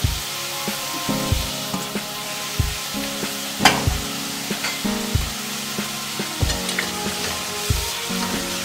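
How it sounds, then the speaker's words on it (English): Chopped onion and coriander stems fry in a pan with a loud, steady sizzle, broken by regular scraping stirs of a spoon, close up, with no talk. "now we'll let this onion fry till it gets brown"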